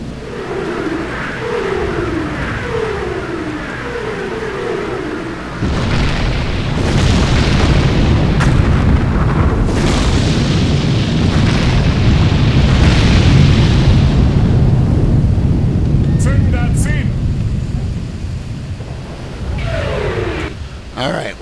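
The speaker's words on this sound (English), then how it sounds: "while they're taking bomb hits" Bomb explosions in the WWII strategy video game Sudden Strike 3, loud deep booms and rumbling blasts layered over game ambience, with a dense sustained barrage in the middle and lighter effects around it.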